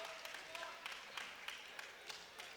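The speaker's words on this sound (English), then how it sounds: "hears an ovation from his crowd" Faint crowd applause with scattered claps rises under a commentator's voice at a boys' high school basketball game, a distant, sustained ovation.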